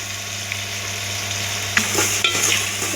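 Onions sizzle and fry in a hot pan for a Tamil-style brinjal and dried fish tamarind curry, a steady hiss under occasional stirring scrapes and light clinks of a utensil near the end.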